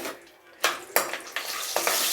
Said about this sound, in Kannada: ಗೋಡಂಬಿ ಹಾಕ್ಕೊಂಡು ಸ್ವಲ್ಪ ಆಯಿಲಲ್ಲೇ ಫ್ರೈ ಮಾಡ್ಕೊತೀನಿ.